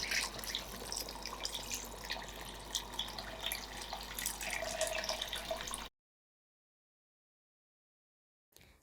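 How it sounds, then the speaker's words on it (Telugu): Water pours steadily into a pot of tamarind fish curry, a continuous splashing stream lasting about six seconds before cutting to silence, with a faint clatter near the end. "ముక్కు ములిగేంత వరకు నీళ్లు పోస్తున్నాను"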